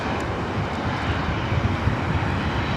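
Engine roar of a 23-year-old Airbus A319 at LAX airport, a steady, loud broadband rumble with wind buffeting the microphone.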